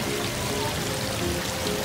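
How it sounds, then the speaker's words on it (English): A small waterfall at Epcot splashes and rushes continuously, a steady close wash of falling water with no voices over it. "So that's like a waterfall."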